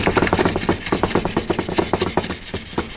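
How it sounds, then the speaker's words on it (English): A guitar nut being sanded with sandpaper during final assembly of an Elysium Phoenix guitar: brisk, rhythmic back-and-forth rubbing strokes, close and steady, with no talking. "take some sandpaper and clean it up a little bit"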